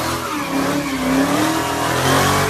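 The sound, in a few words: Hellcat-swapped Honda Accord doing a front wheel drive burnout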